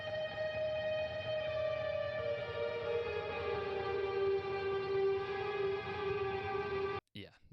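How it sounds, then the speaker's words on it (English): Ambient electric guitar from a parts-built guitar run through the stock factory Rabia preset in Neural DSP Archetype, held as long, sustained, shimmering tones that swell steadily, fade out near the end, then give way to a brief burst of noise. "a nice ambient electric guitar sound that sounds like this"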